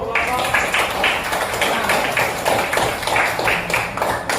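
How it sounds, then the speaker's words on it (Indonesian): Primary school students in a classroom clapping after a group presentation, rapid close hand claps forming an uneven rhythm, with voices mixed in. "beri tepuk tangan dulu"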